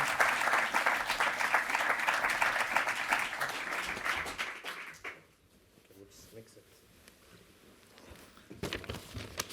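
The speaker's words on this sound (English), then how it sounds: "could you please help me welcome with a warm round of applause, Babatunde Soyoye." An audience at a technology conference fireside chat breaks into dense, fairly loud applause that fades after about five seconds, followed by quieter room noise, a few scattered claps and a speaking voice.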